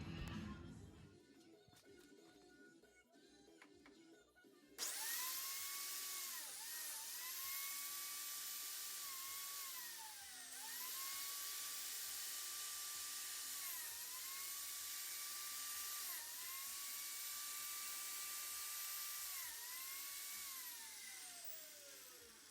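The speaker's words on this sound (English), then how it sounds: "All right, got our biscuit holes." After a few seconds of quiet shop noise, a biscuit joiner spins up to a loud, high whine. It cuts biscuit slots in ash wood, the pitch sagging briefly with each of several plunges before it winds down.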